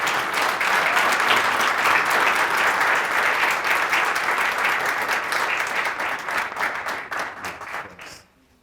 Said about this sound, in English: please give a round of applause for our honoree and our keynote speaker